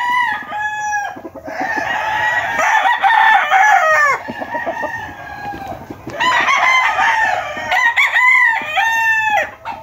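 Several sweater gamefowl roosters and young stags crow loudly on a crowded Philippine farm, their long rising calls overlapping and repeating close by, with scattered clucking between them and no talk.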